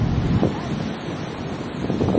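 Ocean waves wash onto a sandy beach with a steady rushing surf, mixed with rumbling wind noise on the microphone and no clear speech.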